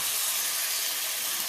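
Pumpkin sizzling hard in a hot pot for coconut curry pumpkin soup as coconut milk goes in, a steady loud hiss with no break and no talk.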